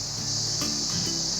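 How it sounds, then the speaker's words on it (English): Crickets chirp in a steady, unbroken high-pitched chorus beside a muddy, rain-soaked Himalayan trail on an early morning, heard clearly with no other sounds. "All I could hear were cricket sounds."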